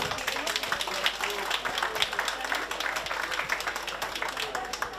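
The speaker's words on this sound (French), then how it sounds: "donc on va encore les applaudir s'il vous plaît" Audience at a chocolate event applauding pastry students from a training school, a steady crackle of many hands clapping at moderate distance, with voices murmuring underneath.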